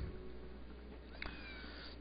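A quiet meow from a cat in the PlayStation 1 Harry Potter and the Philosopher's Stone game rises briefly midway through, set against constant low in-game background sound.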